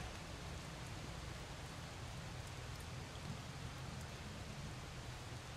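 Steady, soft rain in The Solus Project hisses through the whole stretch, an even wash of falling drops with no voices or other sounds over it.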